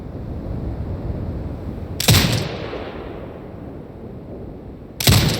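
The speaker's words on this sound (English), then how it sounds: "Exit binocular mode and command the turret to fire." Turret gunfire in the video game Sniper Ghost Warrior Contracts 2: two loud, sharp blasts about three seconds apart, each trailing a short decay over a steady low ambient rumble.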